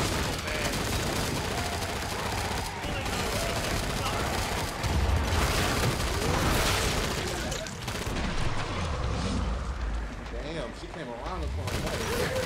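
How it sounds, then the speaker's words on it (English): Rapid gunfire and explosions in the Killing Floor 2 video game roar almost nonstop in dense volleys, loud and close, with a player talking over the shooting. "I'm shooting through those now"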